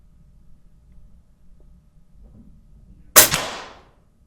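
One airgun pellet shot at about 25 foot-pounds striking nails, a single sharp crack with a quick ringing decay after a quiet stretch.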